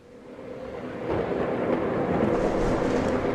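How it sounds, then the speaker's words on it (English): A staged thunderstorm effect in a theatre production of Moby-Dick builds from a low rumble into a sustained, loud roll of thunder, with no voices over it. "A dreadful storm comes on."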